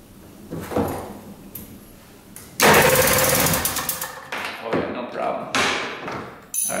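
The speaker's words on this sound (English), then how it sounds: "So she cranks over." A 2-stroke 6x6 tank's engine is cranked over on its battery, a loud, rough churning burst after a few thuds, continuing in uneven surges and clunks.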